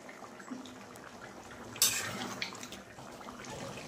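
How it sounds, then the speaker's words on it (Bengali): Water with chicken and potatoes bubbles and splashes in a pot on the stove. There is a steady soft watery hiss, with one sharper splash near the middle. "জল দেওয়ার পর চিকেনটাকে ভালোভাবে ফুটিয়ে নিতে হবে।"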